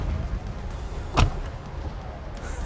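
Tesla Model X doors closing and locking from the key fob: a single brief thud-like latch near the middle over a low idle hum, with no talk.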